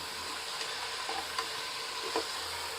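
Mutton biryani masala with coriander, mint and Kashmiri chilli powder being stirred together in a pressure cooker, a soft steady frying hiss with a few faint spoon scrapes, no one talking.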